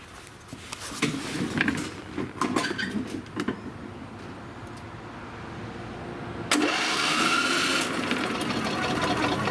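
John Deere lawn tractor engine cranking over on the starter, a steady mechanical whir that spins too freely without catching, with clunks and a louder sustained run of cranking toward the end.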